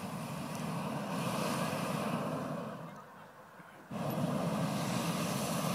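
Hot air balloon burners roar at takeoff over Cappadocia, a steady close rushing blast that drops away for a moment and then comes back at full force, with no clear talk.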